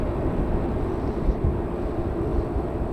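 An airplane taxis out toward the runway at Manchester Airport, a steady low engine rumble and whine held at moderate distance without a break, with no talk over it.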